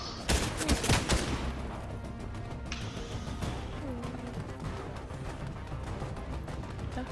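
Rapid bursts of gunfire from opponents in Fortnite open loudly within the first second or so, then thin out into scattered shots and mechanical clatter over a steady game background.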